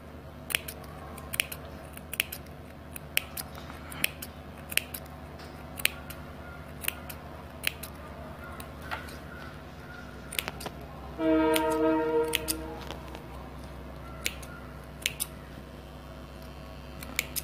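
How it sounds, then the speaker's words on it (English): Scissors snip through fabric around a curved round edge in a boat-neck sewing job, a series of small, crisp, close cuts spaced irregularly, with a brief louder rustle of cloth midway. "Since it is in round shape, just make some small cuts"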